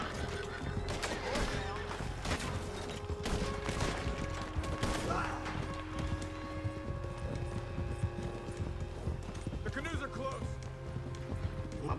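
Horses in the Red Dead Redemption 2 video game whinny and neigh with clopping hooves and scattered gunfire, while people talk over the busy game sounds.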